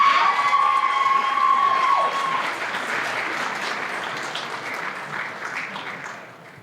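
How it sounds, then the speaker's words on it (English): Audience at a senior awards night applauding the graduating class, sustained dense clapping with a few cheers and a sustained tone early on, gradually fading toward the end. "Can we have another round of applause for our class?"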